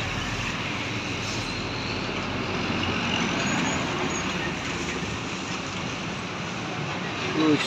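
Heavy trucks rumble past on a crowded road at night in Aceh, a steady broadband roar of engines and tyres that swells and holds throughout with no clear gaps.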